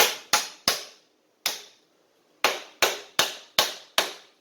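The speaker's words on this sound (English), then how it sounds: "knock it around with a hammer" A hammer knocks a lock nut tight on a Graco 650 low-pressure sprayer: nine sharp, ringing metallic strikes, three quick ones, a lone hit, then five evenly spaced, each close and loud and decaying into silence.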